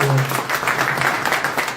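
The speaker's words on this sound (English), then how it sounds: "Go ahead and clap well." Audience clapping at a live investment meet-and-greet in Toronto, a steady wash of hands throughout the short stretch, with a faint voice or tone underneath at the start.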